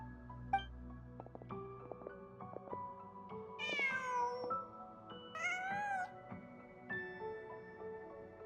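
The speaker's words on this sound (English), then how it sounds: "Just a cat." A cat in the Genshin Impact video game meows in several drawn-out, wavering calls over soft background game music, with no one talking.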